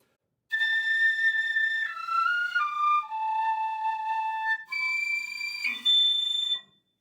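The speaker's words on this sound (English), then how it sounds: "flutter tonguing, essentially rolling the tongue while playing a note" Piccolo played with flutter tonguing across a short run of held notes, each sustained high tone carrying a rapid rolling buzz, loud and close with no other sounds.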